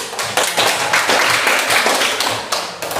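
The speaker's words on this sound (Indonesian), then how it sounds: "Oke, tepuk tangan dulu." A classroom audience at an Indonesian teacher performance exam claps together in a dense, steady patter of hand claps lasting the full three seconds, with no talking over it.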